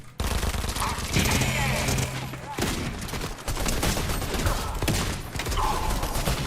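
Rapid gunfire in the Fortnite Battle Royale video game, loud and sustained automatic bursts with brief pauses and mechanical clicks between volleys, with players talking over it.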